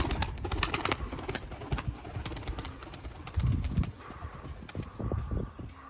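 A young female tumbler pigeon is released and takes off, wings flapping in quick bursts close by amid outdoor noise, with a few soft coos; a person makes a brief hissing shush.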